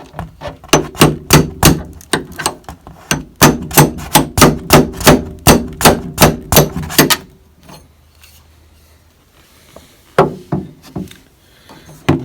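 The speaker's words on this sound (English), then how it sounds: "this split pin. So I'm just going to drive it out now" Sharp, rhythmic hammer blows drive a split pin out of a door hinge on an Alfa Romeo GTV 2000 Bertone, roughly twenty loud metallic strikes in quick runs, a quiet pause, then a few more isolated hits.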